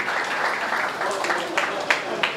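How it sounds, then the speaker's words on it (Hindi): A comedy show audience claps, a brief burst of applause with a few sharper individual claps standing out near the end. "तो एक बार जोरदार तालियां बजाओगे उनकी"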